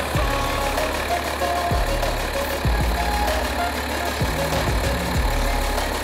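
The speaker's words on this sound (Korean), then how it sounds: "엔진 소리 일정하네요" A BMW X6 xDrive30d M Sport (G06) diesel SUV idles steadily with the hood open, a close, even low rumble with a few soft clicks on top.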